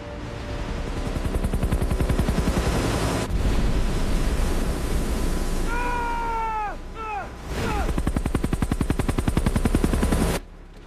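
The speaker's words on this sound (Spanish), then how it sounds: "un prompt como la de un tsunami que está entrando en una ciudad mientras una persona corre por su azotea y salta un helicóptero" Generated audio for a tsunami sweeping into a city while a person runs across a rooftop and leaps onto a helicopter: a loud, steady rotor thump under a roar of rushing water, with brief squealing cries midway.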